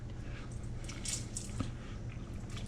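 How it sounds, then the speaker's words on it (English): Marinated banana peppers squeezed by hand to press out their liquid before topping a pizza, giving a close, continuous wet squishing with soft drips and one sharper squelch partway through. "So this liquid, I squeeze it out."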